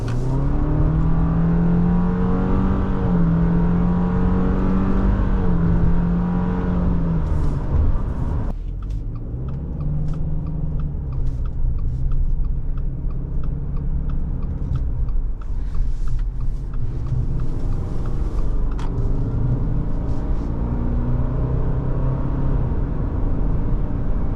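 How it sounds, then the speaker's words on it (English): A 2024 Subaru Forester Wilderness driving on backroads, heard from inside the cabin as a steady engine drone and road noise that rise and fall with gear changes and acceleration, with faint rattles, no speech. "let's do some backroad driving and wrap up this test drive"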